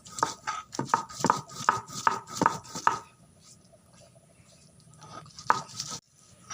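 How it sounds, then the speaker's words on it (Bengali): Chilli and cumin being ground on a stone slab with a grinding stone, a run of sharp, regular scraping knocks at close range, then a quieter pause and a couple of final strikes, with no talk. "এবার আর একটু বেটে নেব ভালো করে।"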